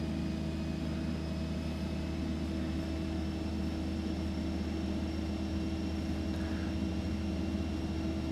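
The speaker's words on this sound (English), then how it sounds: "as I push up the prop, you can see the blades turn to full RPM" Simulated Aerobask Epic 1000 single-engine turboprop in X-Plane with its propeller at full RPM, a steady droning whine with a constant low hum and tonal overtones, even and unchanging throughout, no voices.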